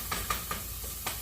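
Meatballs simmering in a pan give a soft, continuous sizzle and hiss with a few faint pops, quiet and close, without talk.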